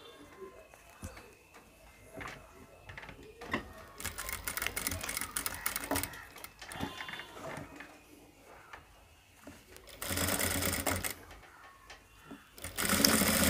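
A sewing machine sews a seam on a band collar with piping, whirring in short intermittent bursts separated by quieter handling and shuffling of fabric.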